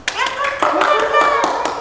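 A child claps hands several times in quick, uneven bursts, close and fairly loud, while voices carry on underneath.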